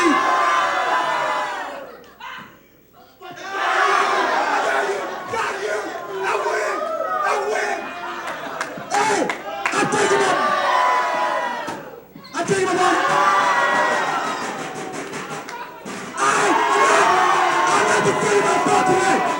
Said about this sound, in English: The crowd's not letting him get a word in edgewise